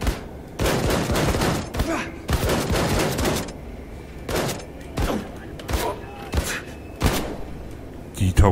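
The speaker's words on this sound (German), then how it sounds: "Ein Gatling." A Gatling gun in the video game Wolfenstein II fires in rapid, loud bursts, each burst separated by short pauses and repeating steadily throughout.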